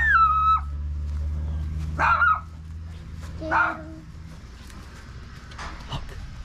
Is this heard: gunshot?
no